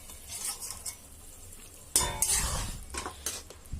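A metal pot lid clatters open, followed by a spoon scraping and stirring rava kichadi inside the pot, with faint sizzling underneath.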